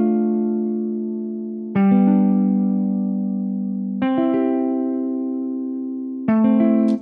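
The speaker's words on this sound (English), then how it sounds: "we're going to strum the notes in FL Studio" Programmed acoustic guitar chords strummed in FL Studio, three sustained chords each opening with a quick rolled strum and ringing out clearly on their own.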